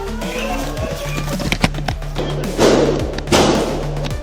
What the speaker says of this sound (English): Additional gunshots can be heard, possibly from Hale's weapons.